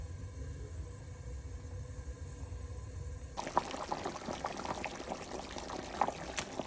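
Fish goes into a pot of boiling potato curry with snakehead fish, and a steady bubbling simmer starts abruptly partway through, after a low rumble.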